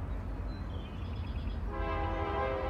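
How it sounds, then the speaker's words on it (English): A loud train passes near a golf course, rumbling steadily in the background, with a sustained horn sounding in the latter part. "And that train is loud as hell."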